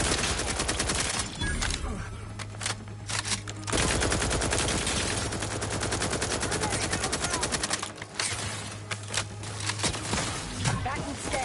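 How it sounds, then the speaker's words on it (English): Sustained machine-gun fire rattles loudly in an Outer Worlds 2 firefight, dense rapid bursts with brief pauses, backed by a low hum of combat and occasional voices. "Lay down fire."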